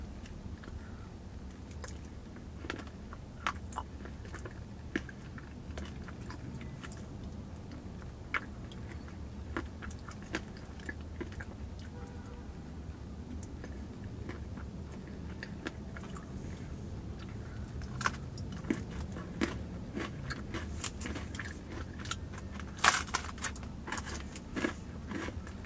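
Someone eating ice cream with Reese's peanut butter chunks, with soft, steady close-up chewing and occasional crunchy bites over a low constant background hum, no talk.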